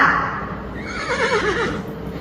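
A horse neighs loudly and close, a long wavering whinny that rises and then falls away, heard alone with no talking.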